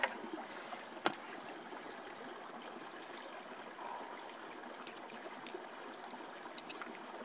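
Mountain stream running over rocks at a wild campsite, a steady broadband rush close by, with a few faint clicks and knocks over the continuous flow.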